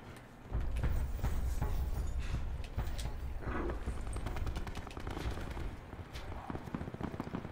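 Rapid gunfire from a first-person shooter in a prison-island map, sustained bursts of close, loud shots rattling continuously with scattered distant pops.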